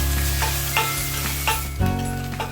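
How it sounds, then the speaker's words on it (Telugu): Sliced onions fry steadily in hot oil for an egg pulao, a continuous close sizzle broken by a few stirring scrapes and a louder shift near the end. "ఉల్లిపాయల్ని బాగా వేగనివ్వాలి."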